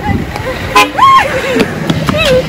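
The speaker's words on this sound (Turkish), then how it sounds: "Hatta bana bip diye korna bastı" A car on a street gives a few short, tooting honks mixed with loud talk and street noise.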